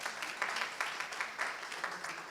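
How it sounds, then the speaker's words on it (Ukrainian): Audience applause at a Ukrainian national forum on the war and Crimea, moderate clapping that pulses in regular waves and stays fairly distant and even from start to finish. "Ваші оплески всім, хто сьогодні з нами."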